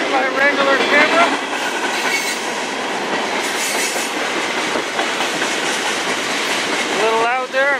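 A CN freight train passes close by on the Strathroy Subdivision, a loud, steady roar of rolling railcars with rhythmic clickety-clack and shrill wheel squeals rising near the start and again at the end.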